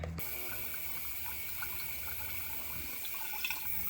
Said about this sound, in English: So I just gave it a little sucky sucky, and now she's draining.